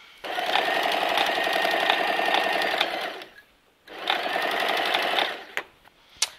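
A sewing machine stitches a seam along an apron in two loud, close bursts of rapid whirring and needle clatter. A brief pause separates them, and a couple of sharp clicks follow at the end.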